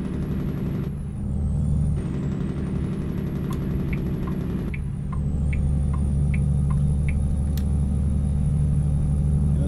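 Engine braking from an older Ford LTL 9000 truck in American Truck Simulator, a loud, steady low rumble and drone that holds throughout, with a brief dip and faint higher tones and clicks above it.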